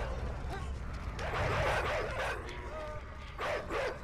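Dogs bark and yip in a video game, several sharp calls spread across a few seconds over a steady background bed with no talking.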